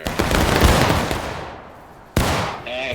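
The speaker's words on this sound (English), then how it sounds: "Take aim. Steady. And fire." A volley of musket gunfire bursts out on command during a V Corps firing drill, a loud crackling blast that decays over about a second and a half, followed by a second sharp report and faint voices afterward.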